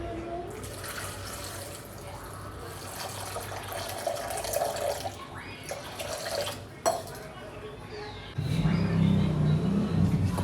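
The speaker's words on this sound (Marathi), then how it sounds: "पाणी" Water poured into a pressure cooker while cooking in a home kitchen, a steady splashing pour near the end after background clatter and ambient noise, with a voice speaking earlier.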